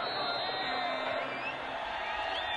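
A large crowd of Yemeni football fans roars and cheers in a stadium in Aden during an Iraq versus UAE Gulf Cup match, a dense continuous wash of voices with shrill whistles and whoops rising through it.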